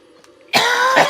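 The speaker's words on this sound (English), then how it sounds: "Cough excluded." A single sharp, loud cough erupts close to the mic after a quiet pause, with a harsh throaty burst and brief follow-through.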